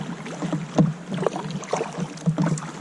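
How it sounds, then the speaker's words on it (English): A kayak paddled on the sea off the Lizard Peninsula in Cornwall, with close, rhythmic splashes and dips of the blades in the water repeating a few times over light wind noise. "And then paddle off"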